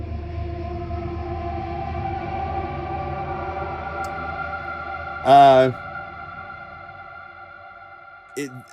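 A sustained DIVA synthesizer drone hums with gliding, echoing overtones, interrupted by a brief loud swelling burst near the end and a softer hit after.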